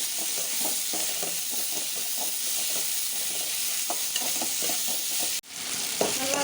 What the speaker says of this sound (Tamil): இப்போ தக்காளியும் போட்டு அதோடய வதக்கிடுவோம்